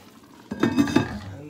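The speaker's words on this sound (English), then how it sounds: "Just rinse the pepper off and pour it in." Liquid is poured into a cooking pot of Nigerian egusi soup after a pepper is rinsed off, giving a short splash and clink of pot and utensil, close and fairly quiet.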